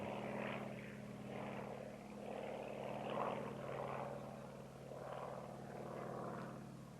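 A6M5 Zero fighter with a propeller engine flies overhead during an aileron roll, a steady droning hum with rising and falling swells that lasts throughout at moderate distance.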